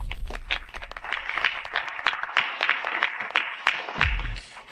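Applause from an audience at a graduation gathering welcomes a student to the stage to present her thesis: dense, continuous clapping from a crowd, fairly close and steady for several seconds, with no talking.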